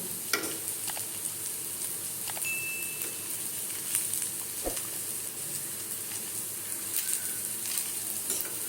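Potato pakoras made with flour fry in oil over a low flame with a steady, even hiss and faint crackle, broken by a few light clicks and taps; no voices are heard.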